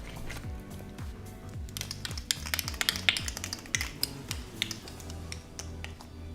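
Acrylic glitter and mylar confetti shaken inside a closed container, producing a dense run of close rattling and clicking taps with irregular sharp ticks throughout, steady and fairly quiet with no voices.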